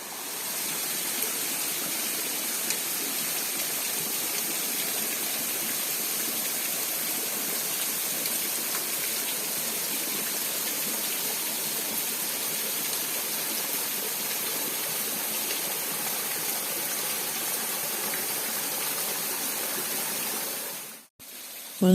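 Curug waterfall below a very high cliff, a steady broadband roar of falling water that runs constant and fairly loud throughout, breaking off briefly near the end.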